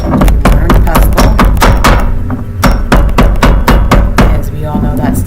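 Incense being pounded and ground with a mortar and pestle, rapid loud close thumping strikes in an uneven rhythm, with a voice talking alongside.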